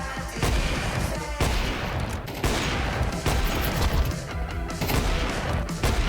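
Rapid bursts of gunfire in Counter-Strike 2 crackle almost continuously, with repeated loud volleys and sharp shots layered over one another in a dense, close-up firefight.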